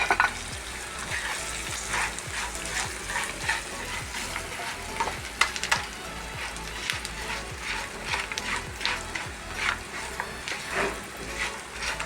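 Fried anchovies being stirred and mixed in a hot pan, giving a steady oily sizzle with scraping spatula strokes throughout, close and fairly loud.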